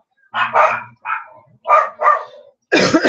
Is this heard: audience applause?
no